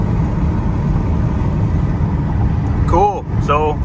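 A car engine hums low and steady while driving, with a short warbling chirp near the end.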